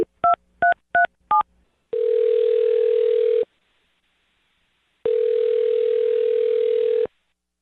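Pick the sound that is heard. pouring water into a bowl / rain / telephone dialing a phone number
telephone dialing a phone number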